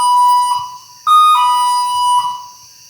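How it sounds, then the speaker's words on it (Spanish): An electronic alarm switched on inside a house in La Rambla, Puerto Rico, sounding as a loud, high-pitched tonal beep that repeats in several bursts, close and alone without talk. "¿viste cómo yo prendí esa alarma?"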